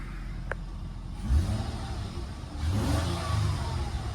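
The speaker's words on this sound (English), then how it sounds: "I'll rev it up a little bit here." A 2004 Mercury Sable's 3.0 DOHC engine idles quietly, then revs up twice, each rise holding briefly. The engine is heard fairly close and alone.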